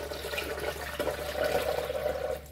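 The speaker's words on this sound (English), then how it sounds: "I'm just gonna go ahead and pour some water right into my blender." Water pours steadily into a blender jar for a fruit juice, making a continuous close splashing gush that ends near the end, with no talking.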